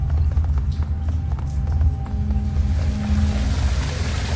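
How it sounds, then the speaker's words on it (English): Water gushing from a broken pipe beside an old rusted valve in the Shadowrun: Hong Kong video game, a steady, loud, rushing flow that runs unbroken the whole time with no talk over it. "The old rusted water valve might be able to close off the flow of water that's pouring out of the broken pipe"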